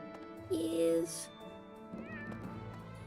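A cat meows once in the video game Fire Emblem: Three Houses, a short loud call over game music, followed by softer background sounds and a faint voice.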